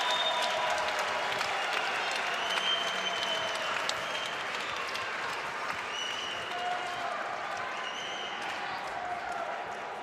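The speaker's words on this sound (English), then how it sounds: "And the crowd is going crazy here." Crowd cheering and applauding after a game-winning curling shot by Russia at the 2015 World Mixed Doubles Championship, a loud, sustained roar of clapping and cheers filling the arena with a commentator's voice talking over it.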